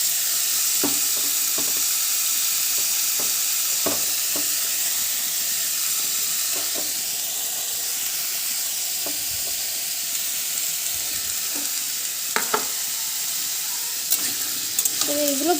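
Chopped onion sizzles loudly and continuously in hot oil in a pan while a pumpkin and soybean curry is being cooked, with occasional stirring clinks and a brief voice at the very end.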